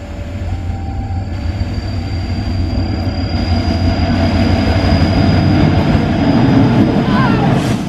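A toy CC201 locomotive runs along its track with a steady, loud mechanical rumble and whir, holding constant throughout with a faint high whine above it.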